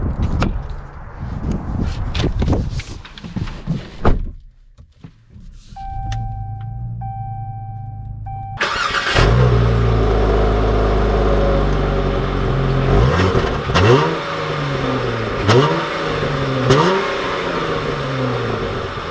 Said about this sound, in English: let's take this Charger out and see how it drives